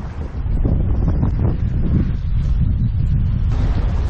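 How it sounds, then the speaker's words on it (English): Strong, steady wind roars and buffets the microphone throughout, a loud continuous rumble with gusty surges and no voices. "Crazy windy."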